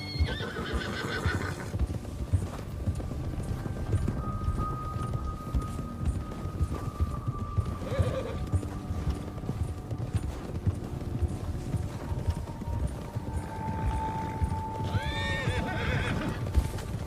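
Horse gallops with steady hoofbeats through the whole stretch in Red Dead Redemption 2, with whinnies and neighs breaking out near the start and again toward the end, over rolling game ambience.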